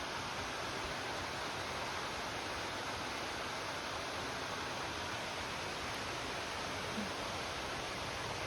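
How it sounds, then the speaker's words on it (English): Mill Creek Falls roars as a constant broadband rush of falling water, steady and close with no pauses, heard alone without voices. "And here we are at Mill Creek Falls."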